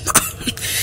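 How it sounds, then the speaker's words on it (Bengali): An old man gives a short, rough throat-clearing cough, two quick close bursts, with no talking. "কাশিটা বড্ড বেড়েছে"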